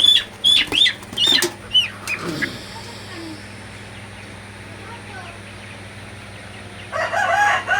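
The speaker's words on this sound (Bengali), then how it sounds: "আরেকটা মুরগি ধরলাম আমি" A farm flock of month-old Sonali super hybrid chickens gives short bursts of clucking and crowing at the start, then falls quiet over a low steady hum before the calls pick up again near the end.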